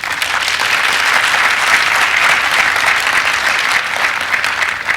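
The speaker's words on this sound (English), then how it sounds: "I will ask the audience for a very big round of applause" Audience at an e-commerce panel event giving a big round of applause, loud, dense and steady clapping sustained throughout without any talk.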